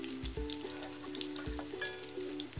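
Cauliflower pieces frying in oil over a high flame give a faint, steady sizzle, with a few soft knocks and a low hum running underneath.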